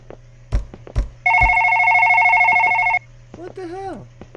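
A telephone rings in the horror video game One Late Night. One steady electronic ring lasts almost two seconds, with sharp knocks just before it and a voice talking afterward.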